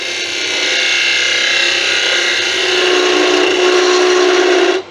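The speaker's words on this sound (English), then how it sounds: "Just grab a skew and a peel and cut." A skew chisel cuts wood on a lathe while turning a tuning fork stand, giving a steady, loud scraping hiss with a sustained tonal hum from the spinning workpiece, running continuously before stopping abruptly at the end.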